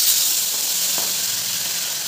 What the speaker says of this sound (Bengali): তা আগে এই মাছটাই ভাজবো, ভাজিয়ে রেখে তারপর ওই তেলটার মধ্যে এই মাছটা বসিয়ে দেবো